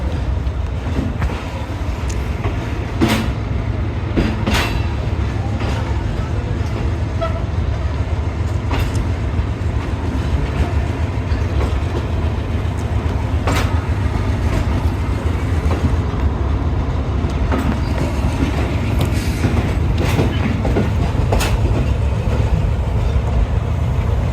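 Karachi Express passenger train running on rails between Rohri and Lahore, a steady loud rolling rumble with repeated clicking wheel-on-rail-joint beats across the whole stretch.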